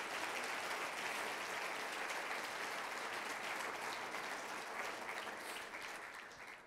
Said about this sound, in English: welcome them, if you would, this morning with a round of applause